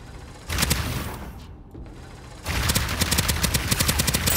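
Rapid bursts of gunfire from a sci-fi gun in Starsiege Deadzone, a space extraction shooter: a loud volley, a short lull, then a sustained rattling stream of shots close up, with no talking.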